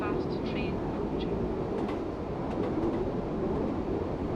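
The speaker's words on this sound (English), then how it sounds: "Fast train approaching." Fast express train rushing past on the ScotRail Edinburgh–Glasgow line in Train Sim World 3, a steady loud rumble with rattling and faint high squeals across the whole stretch, no break in the roar.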